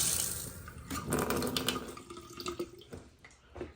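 Water drains from a home plumbing system after the main supply to a garage fire sprinkler installation is shut off. It is a steady, faint rushing flow with small splashes and no talk.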